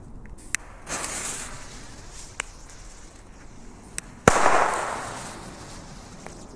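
Several sharp WECO Booster firecracker bangs pop at intervals, then one loud close blast is followed by a rushing crackle and hiss that slowly fades.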